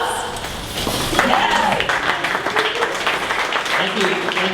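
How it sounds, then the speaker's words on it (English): Audience applause for a presenter at a 1 Million Cups Dallas startup event, dense steady clapping from a standing crowd lasting throughout, with voices and cheers mixed in over it. "please stand up and give another round of applause"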